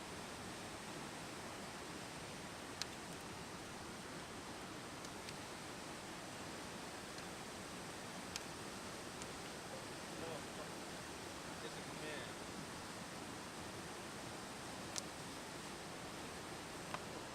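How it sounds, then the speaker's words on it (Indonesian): A waterfall in Karbi Anglong roars as a steady, broad wash of rushing water, constant and enveloping, with a few faint clicks and distant voices barely showing through. "waterfall"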